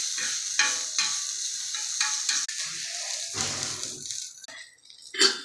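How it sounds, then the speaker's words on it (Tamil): Grated coconut sautéing in a pan for chutney with ginger, garlic and mint, giving a steady close sizzle broken by repeated scraping stir strokes and a sharp clatter near the end. "இப்போ வதக்குறேன்."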